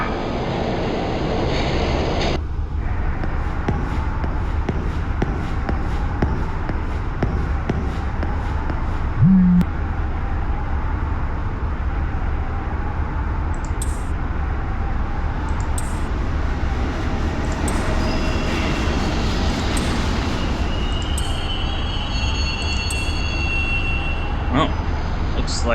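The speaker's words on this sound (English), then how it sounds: "Please do not rush onto the train. The door is now closing." A subway train in the video game Shin Megami Tensei III: Nocturne produces a steady, fairly loud rumble that carries on throughout, with occasional faint higher chimes and clatter.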